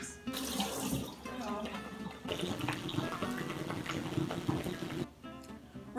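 Tap water running into a sink while mushrooms are washed, a continuous close splashing rush with some clatter, stopping briefly near the end; no talk.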